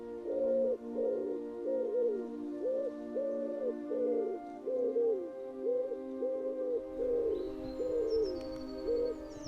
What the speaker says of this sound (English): Now in the background you can hear the call of the wood pigeon